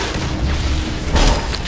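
A deep, rumbling explosion booms loudly in the fantasy action game Hunted: The Demon's Forge, a sustained low roar with a brief burst near the end.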